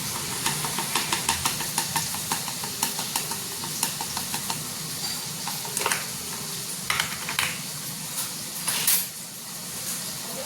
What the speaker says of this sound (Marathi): आता ह्याला थोडंसं कांदा आणि टोमॅटो कांदा बारीक होईपर्यंत हलवून घेऊ